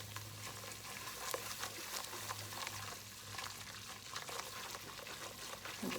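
Flour seasoned with salt, pepper and paprika cooks in a pan as a roux for mac and cheese, giving a soft, steady sizzle and faint scraping that carries on evenly throughout at low volume.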